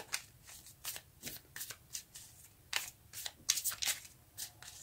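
Tarot cards being shuffled by hand in a steady run of crisp riffling bursts, close and fairly quiet, with no talking over them.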